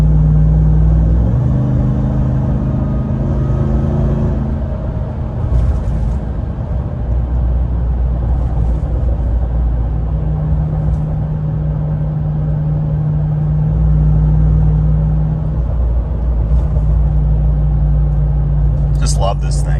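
Supercharged work truck towing a trailer, its engine droning steadily with a sustained whine while driving, loud and continuous throughout with a few tonal shifts in pitch.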